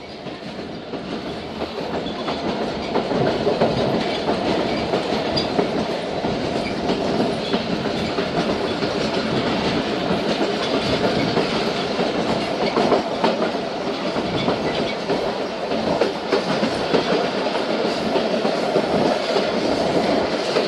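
Thal Express passenger train rolling along the track at speed, a steady loud rumble with rhythmic wheel clatter sustained throughout, close by and without talk.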